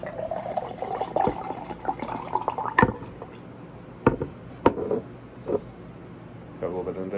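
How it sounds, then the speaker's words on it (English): Trader Joe's nitro cold brew poured from an upright bottle into a cup: a soft liquid gurgle and splash with a few sharp clicks and drips, under intermittent talk. "Put tip bottle vertically and pour into cup."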